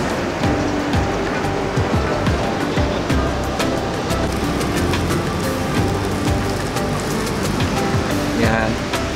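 Ocean waves washing onto a beach, a steady rushing surf noise with people talking and children's voices over it nearby.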